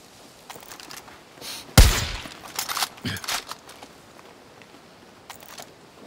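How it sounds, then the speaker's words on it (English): A powerful grade-4 sniper rifle fires in Far Cry New Dawn, one sharp loud blast near 1.8 s ringing out in a long tail, followed by a few weaker bursts and rattles, with quiet game ambience around. "This is the sniper, 4th grade sniper, and it's the most powerful sniper in this game."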